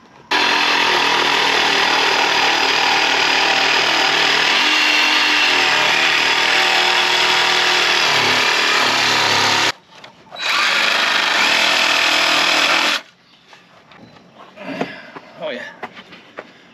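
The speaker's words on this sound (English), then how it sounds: "And I'll cut that out with my jigsaw." A jigsaw cuts wood for a garden trellis with a loud, close, steady buzzing whine. It stops briefly, runs again for a few seconds, then gives way to quieter handling sounds.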